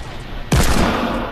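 Gunfire in Fortnite, a sudden loud burst of shots kicking in midway and ringing out over the remainder, near and forceful.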